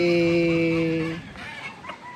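A rooster at a gamecock farm lets out one loud, close, sustained crow, followed by softer clucks and faint fowl sounds from the yard.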